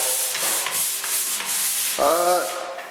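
Steady abrasive rubbing of a sanding pole scraping across drywall, continuous and close, with a brief squeaky scrape near the end.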